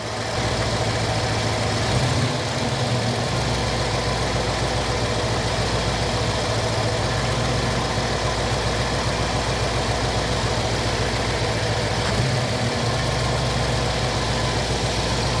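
A Jeep CJ-7 with an AMC 304 V8, just after a mixture adjustment, idles at a slightly raised speed in a steady, loud, continuous rumble that stays even from start to finish, close by and with no one speaking.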